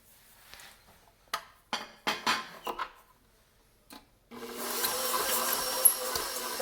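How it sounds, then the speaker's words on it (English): A stand mixer with a paddle attachment creams two sticks of butter with sugar for lemon cookies. A few sharp knocks and clatters come first, then a steady, fairly loud whirring churn runs continuously to the end. "Paddle attachment, we're gonna add the 2 sticks of butter and the sugar, and we'll get that creamed."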